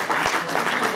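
Audience applause at a political gathering, a short steady wash of clapping from a hall crowd, fairly loud and continuous for about a second.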